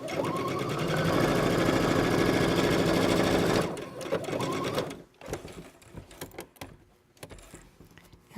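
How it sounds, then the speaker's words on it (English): A sewing machine runs a 5/8 inch shoulder and side seam on a shirt, a loud continuous whir for several seconds, a short second burst, then scattered quieter handling noises. "we're going to stitch a 5/8 inch seam across the shoulder and down the side seam"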